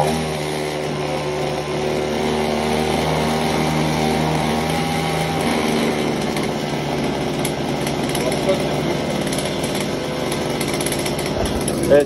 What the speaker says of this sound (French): On va tenter un vrai démarrage.